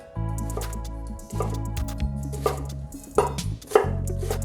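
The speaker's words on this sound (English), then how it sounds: "So we're just going to coarsely chop the onion." A knife coarsely chopping an onion on a board: a steady run of close, soft cuts over a sustained low background hum, with a few sharper knocks near the end.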